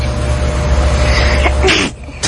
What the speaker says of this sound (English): This sixth grader can sneeze anywhere from 8 to 16 times a minute.